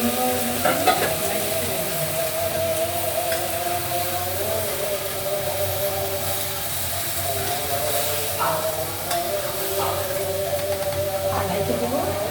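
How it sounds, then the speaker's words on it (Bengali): Vegetables hit a pan of fried chilies and are stir-fried, a loud continuous hiss and sizzle with a few stirring knocks, close throughout, alongside a steady tonal hum. "এখন আমি এখানে সবজিটা ঢেলে দেবো, মরিচ উঠলানো কষানো শেষ, সবজিটা ঢেলে দিয়ে"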